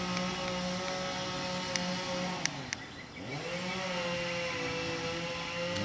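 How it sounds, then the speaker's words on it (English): A distant chainsaw drones steadily in the background, its pitch dipping and rising again midway, with a few faint clicks nearby. "that's a chainsaw in the background"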